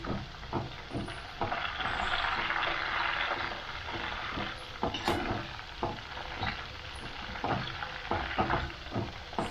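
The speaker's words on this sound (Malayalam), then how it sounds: "കറിവേപ്പില ഒന്ന് ചുവക്കുന്ന വരെ നന്നായി ഇളക്കിയിട്ട് നമ്മൾ മാറ്റി വെക്കുക" Curry leaves and garlic fry in hot oil in a pan for a snack mixture, a steady soft sizzle broken by repeated scraping taps of a spoon stirring.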